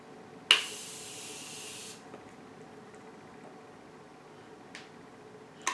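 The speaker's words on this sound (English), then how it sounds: "I will take some setting spray. And I spray my eyes" Makeup setting spray hisses out in one close, bright burst lasting about a second and a half, followed by quiet room tone and a couple of faint clicks.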